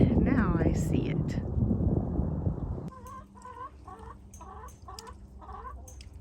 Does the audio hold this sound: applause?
no